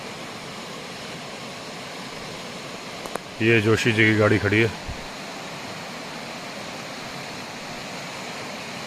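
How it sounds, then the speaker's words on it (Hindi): A fast-flowing river rushes past the gate of a jungle resort in Rajaji National Park, a constant broad roar heard throughout, with someone speaking briefly midway over it. "ये देखिए नदी का फ्लो बहुत बढ़िया चल रहा है।"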